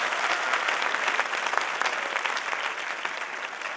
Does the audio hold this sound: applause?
yes